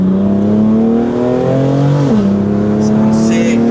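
A BMW M4 with a very loud aftermarket exhaust revs hard close by, its engine note climbing and dropping before settling into a steady drone with faint crackling burbles, and a person speaks briefly over it.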